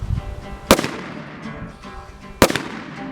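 A Stoeger Coach Gun 20 gauge shotgun fires number 8 shot at a target 15 yards away. Two loud, sharp blasts about 1.7 seconds apart each fade into a short outdoor echo, with no talking.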